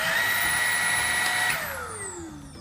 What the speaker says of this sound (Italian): se io lo premo parte l'aspirapolvere